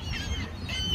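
Ducks quack and honk amid a busy flock, a steady mix of overlapping calls at moderate distance.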